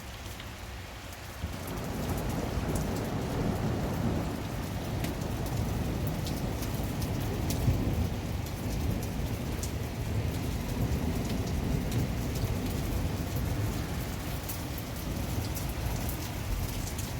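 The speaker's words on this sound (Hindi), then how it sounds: "यहाँ पे बहुत शदीद वाली बारिश हो रही है।" Heavy spring rain pours steadily throughout in big drops, dense and close, with low rumbling thunder rolling underneath.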